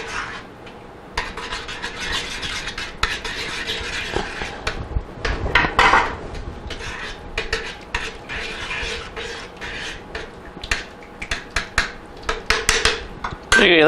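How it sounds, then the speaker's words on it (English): Sour cream mixture being stirred into chicken paprikash in a pot, with a spoon scraping and rubbing against the pot in irregular bursts, close and moderately loud, and a few sharper clinks. "I'm going to add the sour cream mixture into it now. I'll just mix this in."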